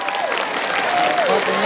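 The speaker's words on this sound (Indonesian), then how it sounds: "tepuk tangan luar biasa." Applause from an audience at an Islamic religious study gathering, a steady wash of clapping mixed with voices and a sliding tonal sound over the top.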